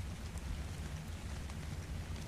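Steady, dense rain falls in ARK: Survival Evolved at night, a continuous loud hiss without pause and with no voices over it.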